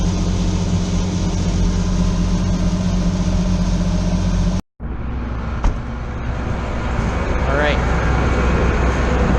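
Combine harvester engine with a corn head running steadily, a loud continuous low rumble that cuts out abruptly for a moment, then resumes as a quieter hum with faint chirps while someone speaks briefly.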